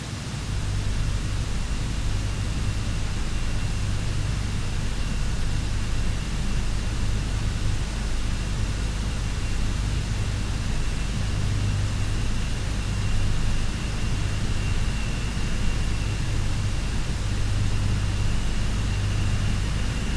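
Constant low machinery hum and broadband vibration inside the Hellisheiði geothermal power plant, with a steady rumbling drone and a faint high whine, loud and unbroken throughout with no voices.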